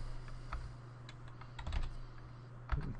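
Someone typing on a computer keyboard, a few scattered keystrokes and short bursts of clicks with pauses between, close and fairly quiet, no talk.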